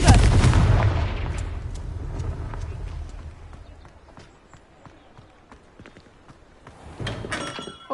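A Confringo fire spell explodes in Hogwarts Legacy with a loud, close burst at the start. Its rumble fades over a few seconds into a quiet stretch of faint crackles, and a smaller flare of noise rises near the end.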